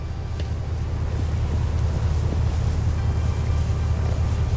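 A boat engine drones low and steady on the open sea in the fishing game Fishing: North Atlantic, with wind and water wash as a constant rumble.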